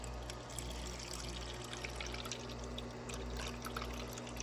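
Water pours from the dispenser of a Frigidaire refrigerator after its water inlet valve was replaced, a faint steady trickle over a low mechanical hum.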